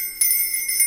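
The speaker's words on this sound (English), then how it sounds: "my sleigh bells, which have a nice resounding sound" Handmade metal sleigh bells jingling in two bright shakes, a crisp resonant ringing with lingering high tones between strikes, close and clear with no voices.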